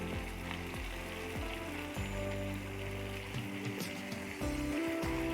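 Chopped green chillies hitting frying tomatoes in a pan while making Anda Ghotala produce a continuous crackling sizzle, moderately quiet and steady throughout, with faint musical tones layered underneath and no talking.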